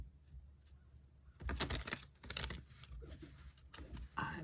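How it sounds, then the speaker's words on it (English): Brisk papery riffling and soft slaps of tarot cards being shuffled close by, in a few short bursts over a quiet background. "Some shuffling first."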